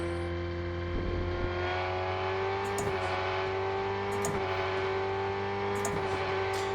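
A race car engine in the Rennsport racing video game, in closed beta, holds a steady high whining tone, with several upshifts marked by quick clicks and a slight pitch wobble, heard loud and alone without voices.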